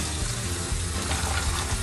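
Tap water runs over broccoli being rinsed in a kitchen sink, a close, continuous splashing rush that stays even throughout.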